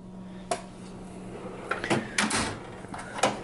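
Drawers on a 72-inch US General rolling steel tool cart from Harbor Freight slide and knock shut several times, with sharp close clunks and softer rattles spaced irregularly over a quiet room hum.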